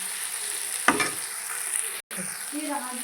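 Bitter gourd roasting in oil in a home pan, a steady soft sizzle with a brief louder stirring scrape near the start, continuing evenly and close.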